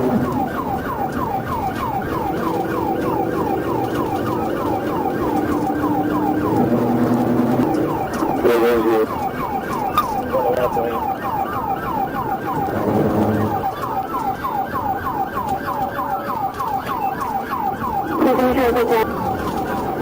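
Emergency vehicle sirens wail and sweep in repeating rising-falling cycles along a highway during a police chase, loud and continuous, with traffic noise underneath and brief bursts of other sounds partway through.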